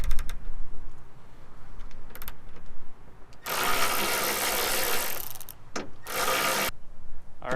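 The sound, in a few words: ratchet wrench removing bolts on a 2015 Ford F250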